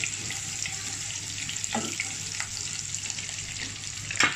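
Chopped garlic frying in oil in a pan while a steady, even sizzle runs throughout, with a brief clatter near the end.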